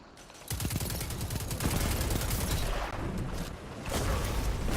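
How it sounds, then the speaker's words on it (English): Rapid, loud bursts of linear fusion rifle fire from an enemy player in the Destiny 2 shooter game, stacked shots with booming impacts running nearly continuously, with no voices. "what gun is our enemy player using, he's using a linear fusion rifle"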